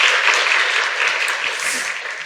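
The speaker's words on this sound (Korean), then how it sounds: "박수로 맞아주시기 바랍니다" Loud, dense applause from a concert-lecture audience at a hospital health event, steady throughout and fading slightly at the end.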